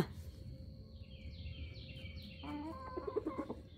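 Chickens being fed, a bird or two giving short clucking calls that rise near the end over a steady low rustle of feeding, with no talk.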